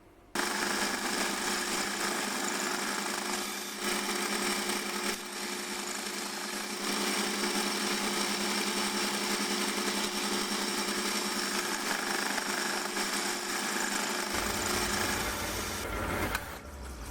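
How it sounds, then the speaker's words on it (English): A milling machine cuts away excess metal on a nut for a Gingery four-jaw chuck, giving a steady, loud machining whine with grinding chatter that runs almost unbroken and changes only near the end. "off to the mill to machine off the excess on the nut"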